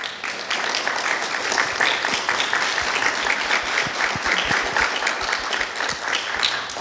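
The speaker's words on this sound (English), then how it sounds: "Can we get another round of applause?" An audience claps for a panel of women motorsports engineers, a sustained round of applause with distinct individual claps audible in the steady crowd noise.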